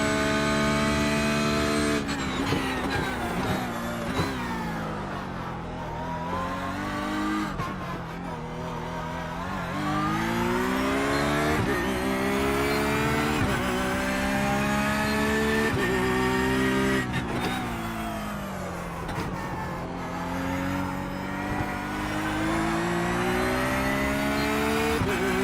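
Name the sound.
Porsche race car engine in NASCAR racing video game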